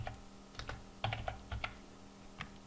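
Typing a verification code on a computer keyboard, a short quiet burst of separate key clicks in an uneven rhythm, close by, with no voices.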